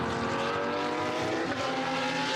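Lamborghini and Porsche GT race cars roar into turn 1 at Jerez in a loud, continuous blare of engines, with the pitch shifting as they pass.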